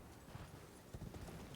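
A horse gallops at a sprint in the Elden Ring video game, rapid muffled hoofbeats drumming steadily, faint and continuous with no speech.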